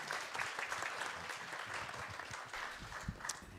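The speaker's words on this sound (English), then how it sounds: "let's welcome him to the stage with a huge round of applause" Audience applause at a satellite workshop conference, a dense, steady wash of many hands clapping that carries on at an even level throughout with no speech.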